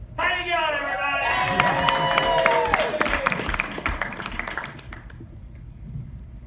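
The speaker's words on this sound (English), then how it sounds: "So much clapping, so many high expectations." An open mic audience claps and cheers as a comedian is welcomed to the stage, brisk crowd applause with whoops that fades out toward the end.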